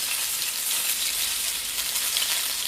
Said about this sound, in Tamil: பெரிய வெங்காயம் ஒன்று மீடியம் சைஸில் கட் பண்ணிடணும். அதை இதில் ஆட் பண்ணிவிட்டு இதை நல்லா கோல்டன் கலரில் ஃப்ரை பண்ணி விடணும்.